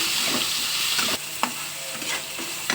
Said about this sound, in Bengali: এটা ভালো করে নেড়ে চেড়ে নেবো।